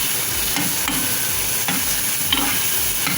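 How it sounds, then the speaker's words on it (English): Hakka noodles sizzle and pop in a hot pan after a teaspoon of soy sauce goes in, a steady close frying hiss broken by scattered crackles and stirring scrapes, with no voices. "So now we're going to add 1 teaspoon of soya sauce. So now it will start popping a bit."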